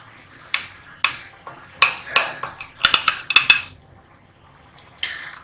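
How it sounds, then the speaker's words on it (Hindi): Metal cutlery clicks and taps against a plate while a piece of freshly baked orange walnut pound cake is cut, a series of close, sharp ticks that cluster rapidly in the middle before trailing off. "मैं आपको एक पीस काट के भी दिखा देती हूँ।"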